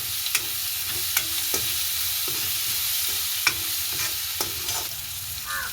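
Onions sautéing with salt in a pan for a crab curry, giving a steady close sizzle with periodic scraping stirs of the spatula, loud and continuous with no one speaking.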